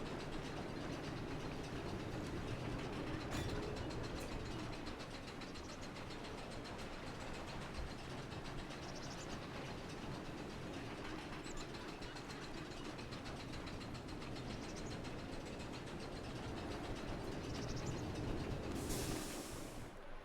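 Bobsled coaster cars running along a track in the video game Parkitect give a steady mechanical rattling and clacking like a chain lift, continuous and fairly quiet for the whole stretch, with no speech.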